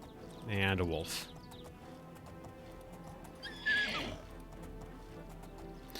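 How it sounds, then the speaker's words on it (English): A horse in the video game Oblivion neighs when struck, giving two loud, brief whinnies a few seconds apart against quiet game ambience. "now I know what my horse sounds like if something tries to hit me and hits the horse instead"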